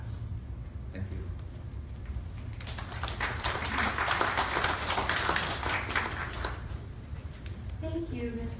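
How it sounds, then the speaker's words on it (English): Audience applause at a panel talk on family businesses swells from a light patter into dense clapping for a few seconds, then fades as a voice resumes speaking. "Another round of applause for everybody."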